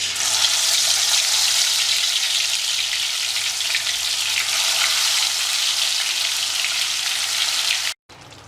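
Marinated chicken frying in hot oil gives a loud, steady, dense sizzle that continues throughout, cutting out briefly near the end.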